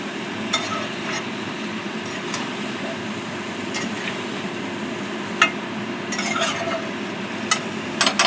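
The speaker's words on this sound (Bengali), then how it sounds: "এবার একটু নেড়ে ঢেকে দেবো।" Spice paste with a little water stirred in a pan, a continuous soft scraping and faint sizzle close by, broken by occasional sharp clinks of the spoon against the metal.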